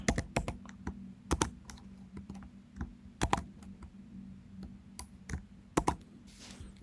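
Someone types code on a computer keyboard in short bursts of crisp, close clicks separated by brief pauses, with a low electrical hum beneath.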